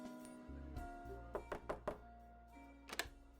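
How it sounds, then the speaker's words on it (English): Several knocks on a door in the video game Norco, a cluster of three quick raps and then a couple more, close and distinct over a low ambient game hum. "Catherine knocks on the door and hears the subtle sound of its unlocking."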